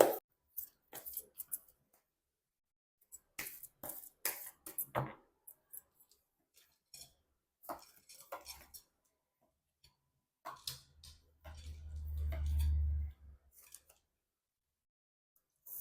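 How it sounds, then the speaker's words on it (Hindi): Tarot cards are shuffled in short, quiet bursts of riffling and flicking, close to the mic and separated by silences, with a low muffled thump of handling partway through. "कर लेती हूँ कार्ड की शफलिंग"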